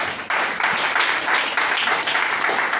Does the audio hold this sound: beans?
no